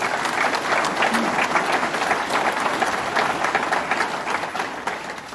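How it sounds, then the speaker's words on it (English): An audience applauds Assembly and Senate members at a Governor Cuomo announcement on Buffalo's water; dense, sustained clapping fills the room, fairly loud and even, with no speech. "Let's give them a round of applause."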